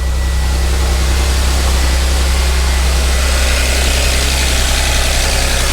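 2013 CGXC engine fitted in a 2011 Audi S4 B8, running without coolant, idling with a loud, steady, close-up hum and a deep low drone that holds throughout.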